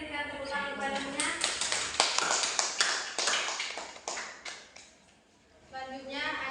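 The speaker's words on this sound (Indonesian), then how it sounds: "kelompok lain yang diberikan tepuk tangan kepadanya" Classroom applause for a student group during a microteaching lesson, a burst of clapping in the middle between stretches of talking, fading before voices return.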